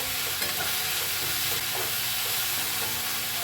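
Vegetables with salt being stir-fried in a pan, a dense steady sizzle with soft stirring scrapes, close and continuous, no one talking.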